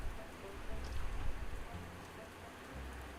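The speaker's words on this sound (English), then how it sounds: "And it is raining here, finally." Steady rain falls outdoors in a continuous, even hiss of drops with faint low rumbles beneath, moderately quiet and unbroken throughout.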